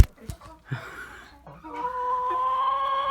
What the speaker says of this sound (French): Donc voilà, un petit coq marrance, voilà.